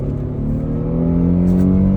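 A 2010 Mercedes E300 engine revs up close in second gear, its steady hum rising in pitch as it accelerates over two seconds, loud and continuous with no talking.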